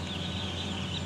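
Crowd of about 1,100 chicks in a poultry house in Khorezm, a dense, continuous bed of high peeping close by with a steady low hum underneath, no pauses and no voices.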